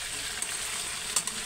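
Chicken pieces fry in a pan with a steady close crackling sizzle, a few sharper pops standing out, no talk.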